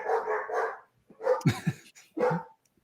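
Household dogs bark close by in a short volley: a couple of muffled woofs, then sharper overlapping barks and a final yip, with brief gaps between bursts and no one talking.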